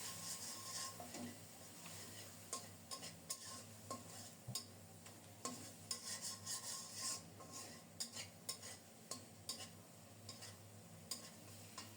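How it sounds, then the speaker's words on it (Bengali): Masala spice paste stir-fried in a pan, quiet rhythmic scraping and stirring strokes over a faint low sizzle, repeated steadily and heard up close but soft, no voices. "এবার খুব সুন্দর মতো মশলাটাকে কষিয়ে নেব কোনো প্রকারে যেন ফোড়া দাগ না লাগে সেটাও খেয়াল রাখবো"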